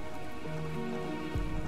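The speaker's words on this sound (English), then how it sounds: "just look at it raining now, and you get to see like all the houses, like they look like they're being rained on" Rain falls on the houses of a settlement in the city-builder game Endzone, a steady, even patter with a few low tones drifting underneath.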